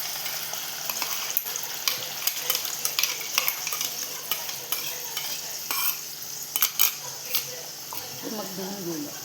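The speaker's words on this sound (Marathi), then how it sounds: "आता आपण त्यात टाकतोय वाटण जे आपण करून घेतलेलं आहे." Ground masala paste goes into chicken in a hot frying pan, giving a continuous loud sizzle with scraping stirs throughout and a brief voice near the end.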